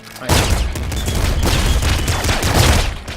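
Rapid bursts of a flak cannon blast in the video game Nuclear Throne, loud overlapping booms and crackling shrapnel rattling almost continuously for several seconds.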